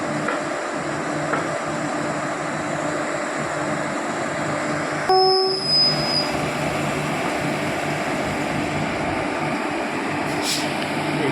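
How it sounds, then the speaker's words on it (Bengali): A passenger train on the Howrah–Katwa–Azimganj line approaches a station near a sharp curve, heard as a steady, fairly faint rolling rumble with a brief high tonal squeal partway through and no talking. "তো এখানে একটা ট্রেন আসছে"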